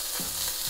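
A thick hamburger patty frying in a pan, a brief close sizzle with steady crackling hiss and a couple of soft low bumps, no voices.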